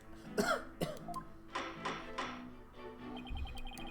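A short burst of coughing followed by a throat clear in the video game Phoenix Wright: Ace Attorney – Dual Destinies, with a game-style chime tinkling faintly near the end.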